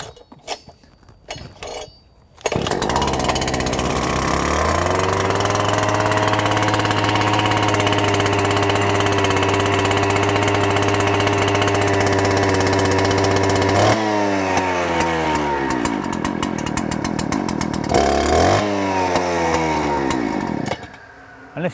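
Two-stroke petrol engine catches after a pull, then runs at a loud, steady buzzing idle with a couple of sharp revs toward the end, heard close and alone.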